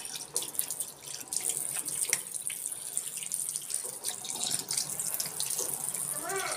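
Tap water runs into a kitchen sink while it is being washed, a close, hissing, splashing flow with small clatters and drips throughout.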